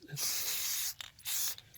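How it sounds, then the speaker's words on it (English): Deft Satin lacquer sprayed from an aerosol can outdoors in snowy weather onto a carved Victorian Santa, two close hissing bursts, the first longer and the second shorter after a brief pause. "Just a little spray before we paint."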